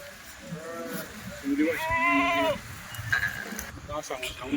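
Kathiyawadi goats at a livestock sale bleat loudly in a few drawn-out calls, one strong wavering bleat in the middle, over a busy background of other animals and people talking.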